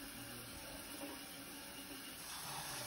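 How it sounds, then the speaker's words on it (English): Water runs steadily from a kitchen tap into a cooking pot for boiling corn, a continuous close hiss and splash with no talking. "Put in some water."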